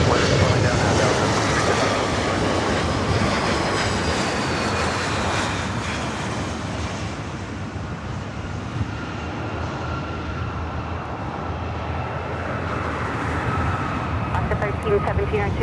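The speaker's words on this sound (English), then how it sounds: "To me, I'm not as important as the sounds of the planes." Airplanes at LAX airport produce a continuous broad jet rumble that holds steady for over fifteen seconds and eases slightly midway, with voices talking underneath.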